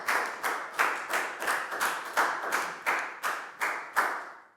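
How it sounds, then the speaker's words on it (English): Classroom claps for a student during a Year 4 math lesson, heard as a string of about a dozen sharp, evenly spaced, close claps with a slight echo. "a big round of applause for Pak Bung, guys."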